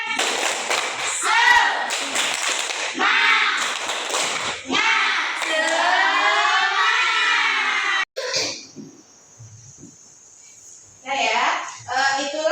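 A group performs the rhythmic 'tepuk semangat' spirit clap. Bursts of patterned clapping mix with loud chanting voices, pausing briefly before another round starts.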